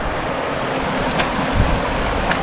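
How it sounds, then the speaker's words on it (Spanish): The Río Blanco near El Chaltén in Patagonia rushes along in a continuous broadband roar of flowing water, mixed with some wind noise on the microphone, with no voices. "Este es el Río Blanco."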